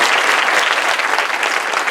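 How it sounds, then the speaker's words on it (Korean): Loud, dense clapping from a seated audience at a speaker-series talk with the Minister of Unification, steady and full throughout the short burst. "청중 여러분 우리 모두를 향해서 박수 한번"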